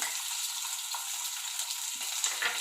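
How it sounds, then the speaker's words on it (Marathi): Green chillies and curry leaves sizzle in hot oil as a bitter gourd dish is started, a steady close, even frying hiss with a brief stir-like rustle near the end and no voices. "आपण पहिला तेल घालूया त्यानंतर या मिरच्या आणि कढीपत्ता"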